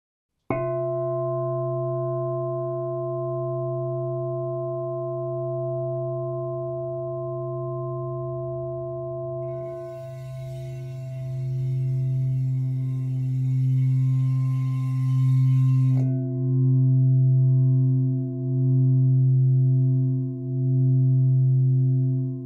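Sustained, humming metallic tones of singing bowls ring in layered drones during a sound bath, with a soft shimmering wash entering midway and a gentle pulsing swell toward the end.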